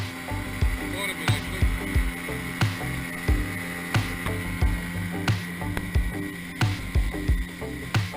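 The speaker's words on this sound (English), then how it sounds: "We jump in our dinghy, the Kenna, and take a ride around to the main island" Small dinghy named Kenna motoring across open water toward a main island in French Polynesia, a steady low outboard drone broken by repeated thumps and splashes as the hull slaps waves.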